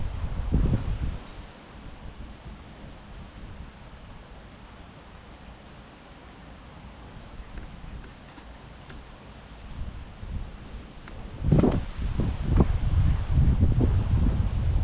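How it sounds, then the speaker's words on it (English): Wind blowing steadily across a fishing lake, a broad low rumble of gusts buffeting the microphone that swells louder toward the end, with no talking. "As you can see, the wind's pushing down this side of the fishery"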